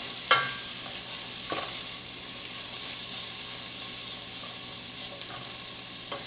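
Onions fry in a pan for a red kidney bean rajma curry, giving a soft, steady sizzle with a few close stirring clinks and scrapes near the start and one more at the end.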